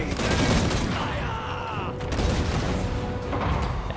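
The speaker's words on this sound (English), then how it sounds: "artillery has already started firing here" A loud, busy burst of artillery fire from a fantasy video game battle in Nordland, overlapping booms and crackling volleys layered over a constant rumble of combat noise.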